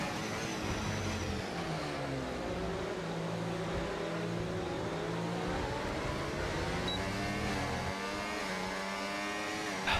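A race car engine in a no-assists racing game at Belgium drones steadily down a long straight, its pitch climbing through the gears in smooth rising sweeps. The loud, continuous whine fills the whole stretch with no voices.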